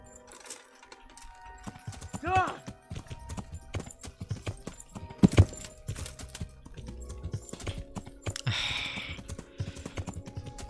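A horse's hooves clip-clop in the medieval video game Kingdom Come: Deliverance, irregular thuds and knocks with a short whinny-like sound and scattered clicks, moderately loud and up close.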